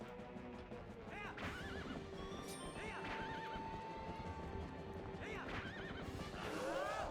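A horse whinnies several times over steady clip-clopping hooves in The Legend of Zelda: Twilight Princess HD, with a continuous game soundtrack running underneath.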